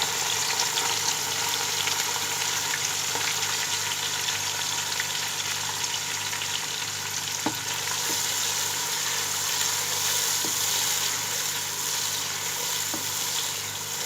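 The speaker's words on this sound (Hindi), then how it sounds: "प्याज को हम एक सुनहरा कलर होने तक जब तक फ्राई करेंगे" Onions frying in a pot, a dense, constant sizzle at a steady loud level throughout with a few faint stirring clicks.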